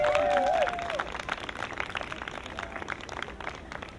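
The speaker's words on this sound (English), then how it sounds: "Oh, please, big round of applause for Alana." An audience at a belly dance performance applauds in a dense, moderate wash of clapping that holds steady and gradually fades, with a brief high whistle-like tone at the start.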